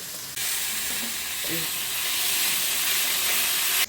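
Steady loud sizzling hiss of chopped tomatoes sautéing in a hot pan, starting abruptly and continuing unbroken, with faint stirring scrapes near the start.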